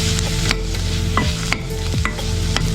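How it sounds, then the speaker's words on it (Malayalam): Chilli powder and turmeric fry in a pan while a spatula scrapes and knocks against the metal in a regular rhythm over a loud, steady sizzle, nearby with no talking. "ഈ മുളക് പൊടി മഞ്ഞൾപ്പൊടിയുടെ ഒരു പച്ചമണം മാറുന്നവരെ നമുക്കൊന്ന് ചെറുതായിട്ടൊന്ന് വഴറ്റി കൊടുക്കാം"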